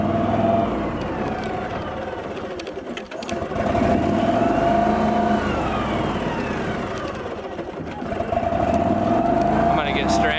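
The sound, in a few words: EZ Go golf cart engine running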